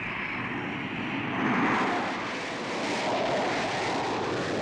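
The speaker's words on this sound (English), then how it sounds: "A jet will be waiting." A steady, broad roar of an aircraft passing, swelling slightly midway, with wind-like rushing throughout and no voices.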